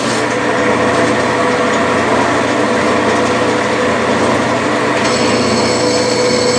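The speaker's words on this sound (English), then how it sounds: "Now I'll put a nice chamfer on there uh, with the carbide bit" Steady machining noise from a Bridgeport mill cutting a 60-degree chamfer with a carbide bit, a continuous dense whine with high-pitched tonal lines, loud and close throughout with no talking.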